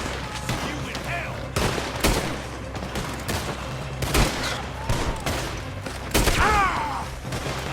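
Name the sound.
gunfight in video game Red Dead Redemption 2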